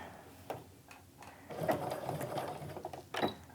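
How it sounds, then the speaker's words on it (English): A sewing machine stitching through a fabric clutch runs in a steady, close mechanical whir, rising into a busier stretch of stitching near the end, with no voices. "I'm going to sew the heck out of this baby."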